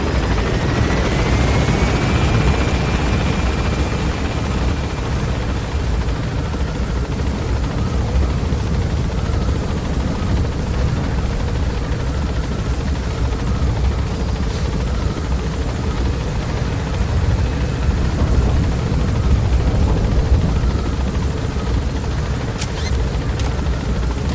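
A helicopter gaining altitude in Metal Gear Solid V: The Phantom Pain, a loud, continuous rotor roar and engine whine that stays close and steady, with a rising tone at the start.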